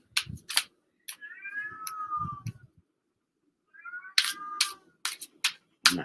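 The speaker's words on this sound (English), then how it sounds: "Can everybody hear my cat crying at my door?" A cat cries at a closed door of a house, letting out two drawn-out meows, one near the start and another later, with clicking and tapping noises scattered between them, close and fairly clear.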